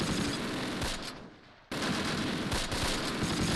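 Dense gunfire from the Close Combat WWII tactics game, set in Normandy in 1944: continuous close bursts of shots, a brief lull, then another heavy barrage.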